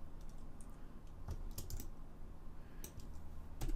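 Computer keyboard keys pressed for a Control Q shortcut in 3D modeling software: a few quiet, close clicks scattered over a faint room hum.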